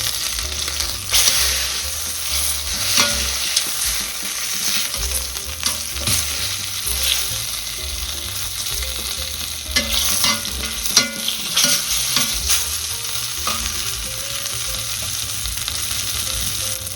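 Meat sears in a pot for osso buco, giving a loud, steady sizzle with frequent stirring and scraping throughout and no talking.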